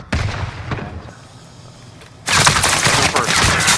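Video game gunfire comes in rapid bursts, first one loud burst, then a quieter gap, then sustained heavy automatic fire that dominates to the end.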